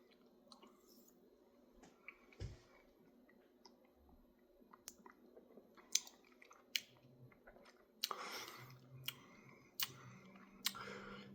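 Someone tastes a taqueria-style sauce up close, with quiet wet chewing, smacking and small clicks spread over several seconds, growing more frequent toward the end.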